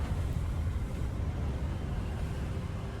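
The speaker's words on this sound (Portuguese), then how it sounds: "E tá ventando pra caramba." Wind blows steadily in Hogwarts Legacy near a bridge, a constant low, rumbling rush with no breaks, filling the scene loudly.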